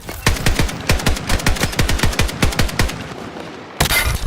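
Automatic gunfire in the Battlefield 6 battle royale game, a steady loud string of about twenty rapid shots, then a brief pause and a final burst of noise.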